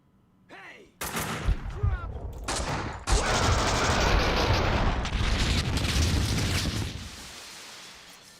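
A big explosion in the video game Max Payne 2 strikes suddenly, then a loud sustained roar of blasts and gunfire that slowly fades, after a brief voice.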